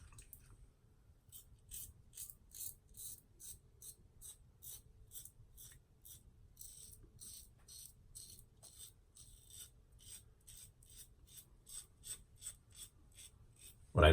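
A safety razor, a Merkur Progress, scrapes through stubble in short rasping strokes at a steady rhythm, quiet and close, with a louder clatter at the very end.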